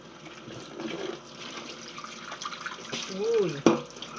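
Tap water running and splashing during dishwashing with homemade dish liquid, a fluctuating rush that swells toward the end with a sharp splash, with someone speaking over it.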